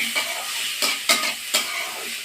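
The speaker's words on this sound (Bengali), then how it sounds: "কচুটা বেশ ভালো করে ভেজে নেব" Taro pieces fry in a pan over a soft, steady sizzle, broken by three or four distinct scraping stir strokes close by, with no voices.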